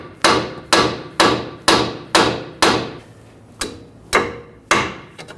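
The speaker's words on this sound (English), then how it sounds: "I'm just going to use a hammer. Just give it a tap." Nine sharp metallic hammer taps on a seized front strut bolt of a Volkswagen Tiguan, struck at a steady pace with a brief pause before the last three, close and loud with no talking.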